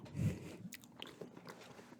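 Gum is chewed close to the microphone: a firmer crunching bite near the start, then softer, moist smacks and clicks at an irregular pace, with no talking.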